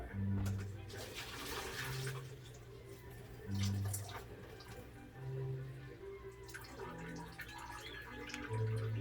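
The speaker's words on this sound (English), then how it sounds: "It's time to drain the noodle" Cooking water drained off cooked Taiwanese Wu-Mu Mandashi soy sauce and vinegar instant noodles, heard as irregular close splashing and pouring bursts with drips between them, over a low background hum.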